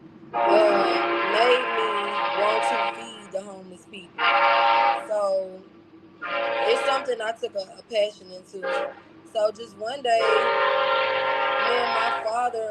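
A train passing on a track near a home, with long, loud horn blasts repeating several times over a steady rumble while a person keeps talking close by.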